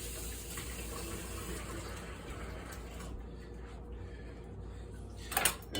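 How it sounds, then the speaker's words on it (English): Tap water running steadily into a sink while lettuce is washed, a continuous soft gush that thins partway through, with a brief splash near the end. "So this lettuce all needs to be washed here."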